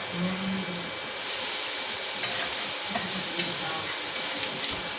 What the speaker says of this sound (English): I wanted to get a little brown, a little small sear